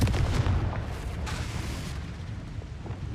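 A Confringo fire spell blasts off in Hogwarts Legacy, a loud booming burst up front that rumbles and slowly tails away over a few seconds.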